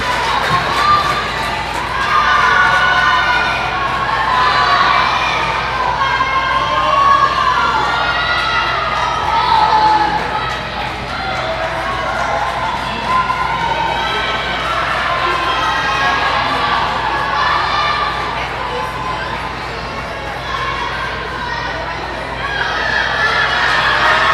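A packed crowd of spectators cheers and shouts continuously at an indoor swimming meet during a breaststroke race, children's voices prominent in the loud, steady roar that swells and dips across the whole stretch.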